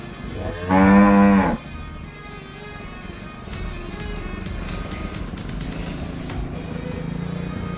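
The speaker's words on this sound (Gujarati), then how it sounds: "આ વાડાની અંદર ગાયોને છૂટી બાંધવામાં આવે છે, છૂટી ફરતી મૂકવામાં આવે છે।" A single loud, close cow moo rings out inside a natural farm's cattle enclosure, followed by steady low background rumble and faint fan noise.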